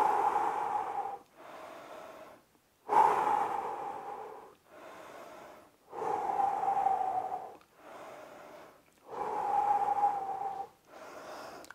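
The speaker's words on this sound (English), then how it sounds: "So let's keep breathing and then we'll get right into it." Deep rhythmic breaths during an at-home workout stretch, with about six long, steady, close inhale-exhale cycles separated by short pauses and no talking.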